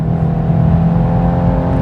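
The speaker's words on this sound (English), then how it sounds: "All right, I'm going to floor it one last time." BMW 430i coupe (2021 4 Series) accelerating at full throttle, a steady loud engine drone with rising harmonics heard from inside the cabin, continuous for under two seconds with no speech.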